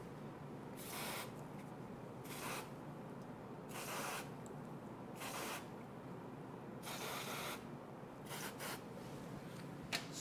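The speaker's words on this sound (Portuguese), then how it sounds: "vou usar o spray" An aerosol spray is aimed at a chocolate flower base, giving about seven short, close hissing bursts of a second or so each, separated by quiet gaps, with no talk.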